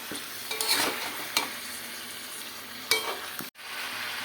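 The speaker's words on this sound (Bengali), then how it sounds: "এবার মাংসটা দিয়ে দিচ্ছি এবার ভালো করে নাড়াচাড়া করে নেবো" Mutton and ginger-garlic paste stirred in a hot pan, a spoon scraping and clattering in a few sharp bursts over a constant close sizzle, with a brief dropout near the end.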